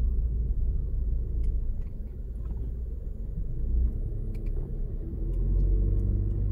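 An SUV rolls over a speed bump on an uneven road, heard from inside the cabin as a steady low engine and road rumble with soft thumps and a muffled rise in noise near the end.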